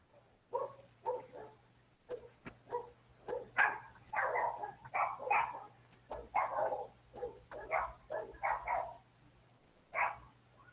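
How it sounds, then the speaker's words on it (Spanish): A small dog barks repeatedly in short, yappy bursts through a participant's open microphone during an online nutrition lecture, close and clear over a faint steady hum. "apaguen ese micrófono que está sonando un perrito"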